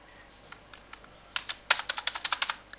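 A computer keyboard clacks as code is typed, a few scattered keystrokes followed by a quick run of crisp, close key presses.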